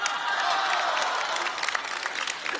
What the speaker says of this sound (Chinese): 用热烈掌声欢迎栾云平给大伙儿演一个